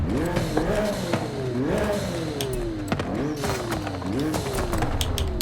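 A McLaren Artura engine in Forza Horizon 5 revs repeatedly, four rising sweeps that climb and then drop, with sharp shifts between them and a steady engine drone underneath.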